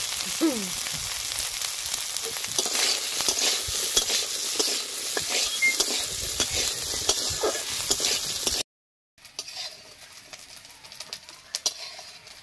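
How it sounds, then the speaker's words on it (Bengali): Grated coconut fries in hot oil in a wok, a soft, steady sizzle with stirring scrapes and occasional faint bird calls. A brief silence breaks it before the frying resumes. "তেলটা গরম হয়ে গেছে, এবার নারকেলটা দিয়ে দেবো।"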